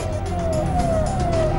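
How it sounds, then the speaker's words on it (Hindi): An ambulance siren wails as it passes through a dense crowd at a political rally in the Haridwar–Roorkee area of Uttarakhand, loud and continuous, its pitch sliding steadily downward. "एम्बुलेंस का सायरन सुनकर राहुल ने भाषण रोका"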